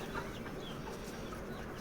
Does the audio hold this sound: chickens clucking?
yes